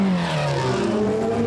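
A NASCAR race car engine at Le Mans drones loudly and steadily, its pitch climbing gradually as it revs, with a harsh mechanical roar throughout.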